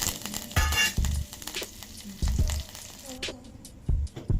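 Mustard seeds, chana dal, urad dal, dried red chillies and curry leaves sizzling in hot oil for a tempering, a loud close crackle with bursts of stirring.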